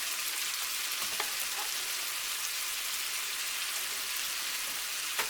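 Frozen mixed vegetables from a two-pound bag fry in a pan for shepherd's pie, giving a steady, loud crackling sizzle throughout with one or two brief pops and no talking.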